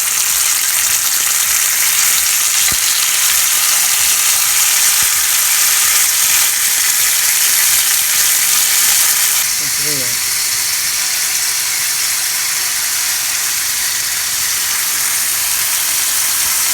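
Squash pieces sizzle and hiss loudly on a hot griddle in a continuous, bright frying crackle, close by, with a brief softer stretch partway through and a voice speaking briefly.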